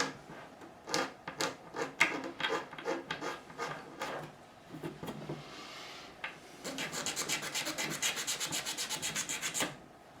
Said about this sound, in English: take a Stanley blade like so, and just scrape.